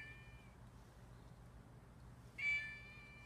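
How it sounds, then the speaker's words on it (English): Small kitty cat meowing twice, a faint short meow followed by a louder, clearer one, over a quiet low hum. "we've got this wonderful little kitty cat here"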